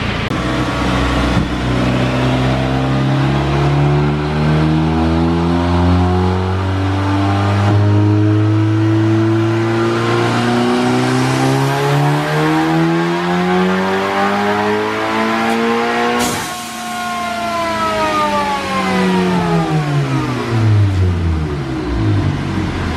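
A tuned VW MK7 Golf R with an EQT turbo, running ethanol, revs hard on a dyno: a loud, continuous engine note climbing steadily through the rpm range, a brief dip and shift, then another rising sweep, with no talking.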